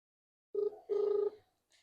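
A telephone rings twice in a quiet room, first a short electronic trill, then a longer one, followed by a faint blip.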